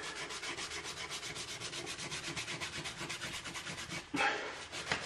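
Rhythmic back-and-forth rasping of 180 grit sandpaper smoothing resin on a wooden gun stock, close and steady, with a brief shift in stroke near the end.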